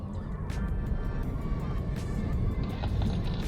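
BYD electric car at speed on a test track, a steady broad rush of road and wind noise with a faint high electric whine and occasional thumps, continuous and fairly loud.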